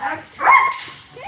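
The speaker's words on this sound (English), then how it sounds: "These are some beautiful dogs," A dog gives a short bark or yip, brief and close, mixed in with someone talking.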